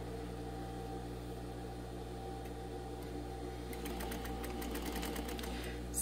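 A sewing machine stitches a fine seam across a shoe, making a steady mechanical hum with rapid needle clatter that quickens toward the end, close and continuous with no talking.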